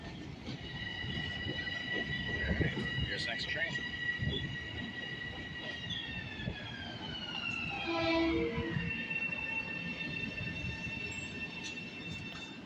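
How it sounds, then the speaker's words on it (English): A train pulls into a station on a commuter rail line, with a rumbling approach, a long blaring horn, metallic wheel squeal as it slows and steady rail noise, voices faintly in the background. "Here's the next train."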